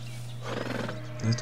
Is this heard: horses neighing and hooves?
yes